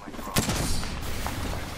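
Gunfire in the Apex Legends video game crackles in a short burst of shots, a sharp crack followed by quicker pops under a dense, noisy background, with faint voices nearby.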